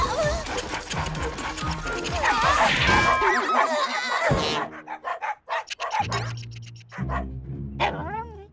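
Several dogs barking in a busy animated scene, sharp barks scattered among clattering effects and other busy noise.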